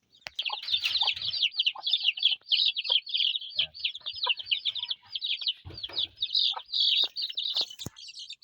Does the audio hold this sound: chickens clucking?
yes